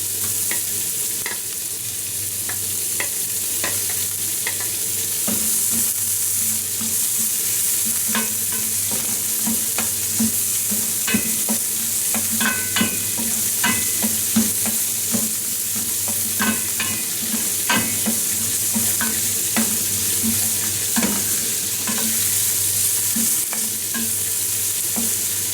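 Finely chopped medium-size onion frying and being stirred in a pan with garlic, a steady close sizzle with scraping spoon taps throughout, no voices.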